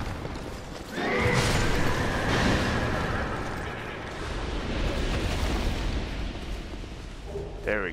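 A horse in Dark Souls 2 gives a loud, drawn-out whinny that fades, followed by rumbling game ambience and a brief rising call at the end.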